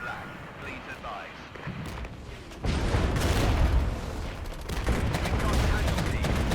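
Gunfire and explosions in the real-time strategy game Regiments, British forces under fire, heavy continuous battle noise with rattling shots and rumbling booms that swell loudly after a quieter opening with faint radio chatter.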